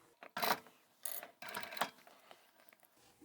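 A sewing machine double-stitches seams in upholstery fabric and vinyl, giving several short bursts of mechanical whirring and clatter separated by brief pauses, close and fairly quiet, with no talking.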